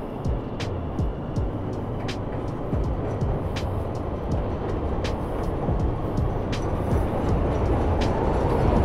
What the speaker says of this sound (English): Okay, I think I hear another train.